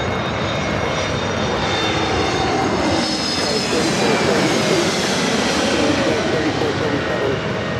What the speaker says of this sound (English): This arrival is American Airlines Flight 537 coming in from Miami, Florida on the A321 NEO.